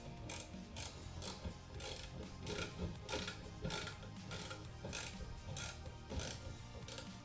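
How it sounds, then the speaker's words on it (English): A small 1/4 inch ratchet clicks steadily in rapid, even bursts while backing out recessed can light screws, heard close and fairly quiet with no talk. "I'm just taking a little 1/4 inch ratchet here."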